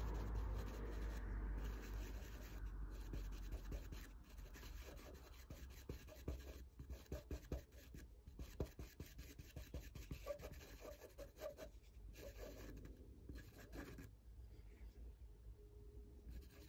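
A pencil moves over paper while a dog's nose is drawn in pastel, giving faint, close scratchy rubbing strokes in quick irregular bursts, with brief pauses between passes.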